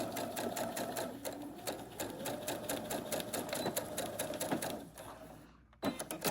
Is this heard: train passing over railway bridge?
no